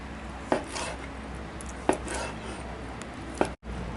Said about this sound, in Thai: นี่เราก็ซอยเครื่องในครับ